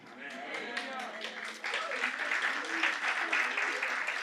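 Applause from a church congregation during a sermon, steady dense clapping that swells louder partway through, with voices audible underneath.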